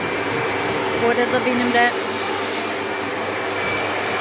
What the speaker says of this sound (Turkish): normalde biliyorsunuz arkadaşlar babamın küçük süpürgesi vardı ama bugün ev süpürgesiyle çektiriyor